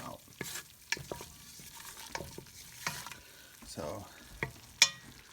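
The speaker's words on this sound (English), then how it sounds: "Cooking that butter out." Butter and flour roux being stirred in a pan, soft scraping strokes over a low sizzle, with intermittent clinks of the utensil against the pan, close and quiet, and a brief spoken word at the start.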